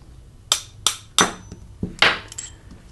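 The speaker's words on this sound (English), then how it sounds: "we can punch the extractor out" A pin is punched out of the extractor of a Smith & Wesson 78G air pistol, giving five or six sharp metallic hammer taps in an uneven rhythm, close and fairly loud with no talking.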